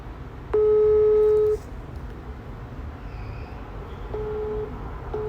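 Telephone line tones after dialing: one steady beep, then two shorter beeps repeating like a busy signal, over a constant background hum.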